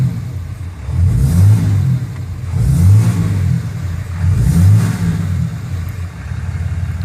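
A 2012 6.7 liter Cummins diesel engine idles with a deep rumble, then revs up in three swelling bursts that fall back to idle, heard close after a fuel filter change.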